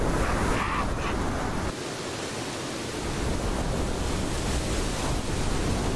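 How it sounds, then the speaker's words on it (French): Loud, steady wind roaring through the Sons of the Forest game world, a dense broadband rush with a brief dip in strength midway before it surges back, continuous and without pause, with no voices heard. "Ce vent il est horrible. C'est le bruit en fait qui m'énerve."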